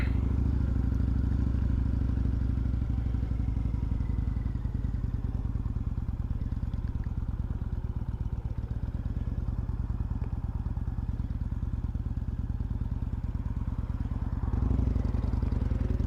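A Kawasaki motorcycle rides along a road, giving a loud, steady engine drone mixed with wind rush that holds evenly throughout with no talk.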